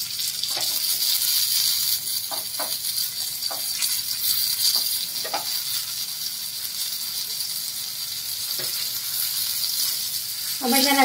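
Stuffed pomfret fish coated in semolina fries in oil in a pan, giving a steady close sizzle with a few soft clicks of handling and no voices.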